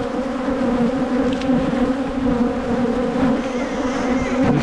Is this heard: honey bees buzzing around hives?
yes